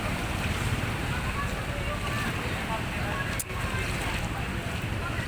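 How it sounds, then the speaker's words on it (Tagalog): Waves in high-tide flood water in Macabebe, Pampanga, a continuous wash and slosh with heavy wind buffeting across the microphone and a voice mixed in. "Kasi maalon yung tubig eh."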